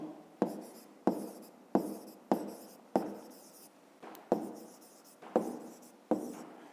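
Pen or chalk writing out a fifth-grade math solution, about ten sharp separate strokes each trailing off into a scratchy fade, close and fairly quiet with no talking.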